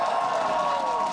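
A large esports arena crowd at an Overwatch League match between Fuel and Uprising roars and cheers in a steady, dense wash with no break, under faint announcer talk.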